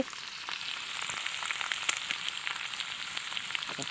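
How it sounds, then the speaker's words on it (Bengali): Fish fries in a pan with a continuous soft, even hiss of oil, steady and fairly faint, with a few small crackles and no voices. "এই যে আমি মাছ ভাজছি।"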